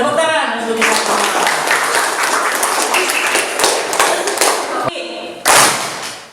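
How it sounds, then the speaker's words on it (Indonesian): Classroom applause in a lesson on religious and moral education, a dense burst of clapping filling most of the moment, cutting off briefly and then resuming loudly, with a teacher's voice and pupils' talk around it. "Tepuk tangan untuk kita semua."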